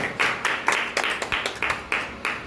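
A string of sharp hand claps, about a dozen, in a quick, slightly uneven rhythm, close and fairly loud.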